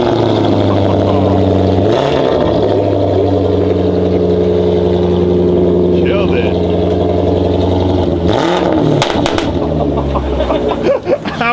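A Range Rover engine cold-starts with a new Velocity AP exhaust and idles with a deep exhaust drone, revs briefly twice, close up and continuous, with a voice heard faintly over it.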